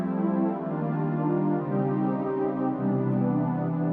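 A sustained piano chord rings out evenly, with a slight shift in the tones partway through, played alone without talking.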